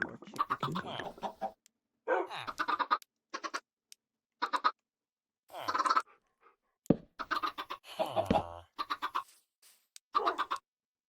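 Chickens cluck and squawk in a video game called After the Snap, a string of uneven bursts broken by short silences, fairly loud and near, with no talking.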